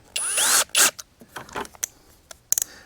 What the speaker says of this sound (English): Put the drill bit in.